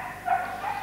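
A dog gives a couple of brief, faint barks at a spaniel club show in Vall d'Alba, Spain, heard from a distance against low background murmur.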